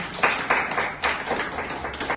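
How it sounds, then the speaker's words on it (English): An audience applauds a man honoured for living poetry, with soft, moderately dense clapping in a few swelling bursts, fairly faint and distant. "Applause for the man who lived poetry"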